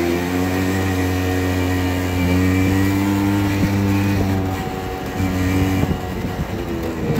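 A TGB Bullet scooter engine that stalls at high revs and under load, running steadily while riding with a buzzy harmonic drone that dips and rises slightly as the throttle changes, close and continuous.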